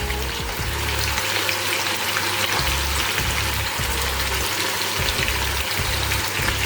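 Chicken pieces with onion frying in a hot pan, a loud, continuous close-up sizzle and crackle with faint occasional low bumps underneath.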